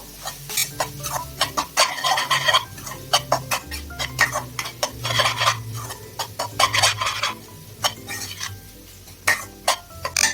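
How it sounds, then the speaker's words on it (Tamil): A spoon scrapes and stirs chilli masala sautéing in a pan for crab pepper gravy, producing a busy rhythm of sharp clinks and scrapes over a soft sizzle, close by. "இப்போ இது எல்லாத்தையுமே நல்லா கலந்து விட்டுட்டு ஒரு 2 நிமிஷத்துக்கு இந்த மசாலாவோட பச்சை வாசனை போகிற வரைக்கும் வதக்கிக்கலாங்க"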